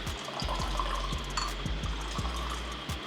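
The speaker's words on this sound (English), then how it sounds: "nice pour we got going on here" Red wine pouring from a bottle through a pour spout, a steady close trickle of liquid with soft rhythmic glugging pulses throughout.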